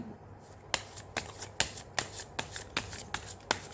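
Tarot cards being shuffled in a run of crisp riffles and slaps, about ten close, fairly regular bursts over a faint background, with no voice.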